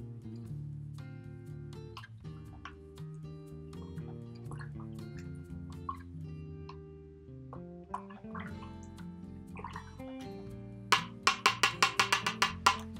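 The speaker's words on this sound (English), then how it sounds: "I can rinse it out by bouncing and swirling the bristles in my cup" A paintbrush's bristles are bounced and swirled in a cup of rinse water, giving a quick run of rhythmic wet taps and drips near the end, over steady background music.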